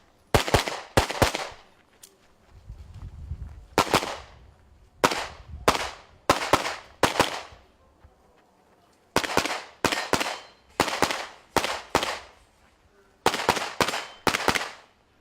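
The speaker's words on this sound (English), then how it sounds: "Great shooting for Petr Piáček." Pistol shots from an open-division competitor in a practical shooting match, fired in rapid bursts of two to five shots with short pauses between strings, loud and sharp, echoing across the range.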